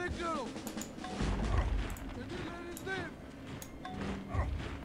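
Cannon fire during an overseas assault in the strategy game Civilization 4, a few booming thuds and crashes over a low rumbling bed, mixed with game effects and someone talking over them.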